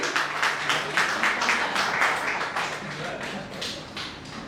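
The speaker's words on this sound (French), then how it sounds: "Applaudis ce matin pour Mazli." Steady, dense applause from a church congregation, a continuous patter of many hands clapping at moderate volume with no voices standing out.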